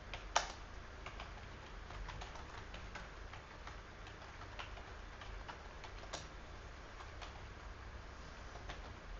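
Programming code is typed on a computer keyboard in a steady stream of close, crisp key clicks with occasional louder taps, and no talking.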